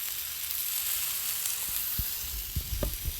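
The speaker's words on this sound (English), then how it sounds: "right here we've got fajitas on the grill" Fajitas sizzling on a griddle grill, a loud, steady hiss of frying meat close by, with soft scraping and clunking from turning the meat toward the end and no talk.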